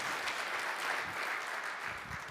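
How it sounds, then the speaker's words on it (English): A church congregation gives a round of applause for a moderator, a steady wash of many hands clapping at moderate distance, continuous and fairly soft without voices standing out. "Round of applause."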